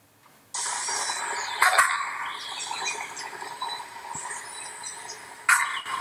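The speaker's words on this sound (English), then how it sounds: "This is an eagle alarm call." A vervet monkey's eagle alarm call, a sustained harsh chirring chorus that starts abruptly and runs for several seconds with a couple of louder sharp bursts, fairly close.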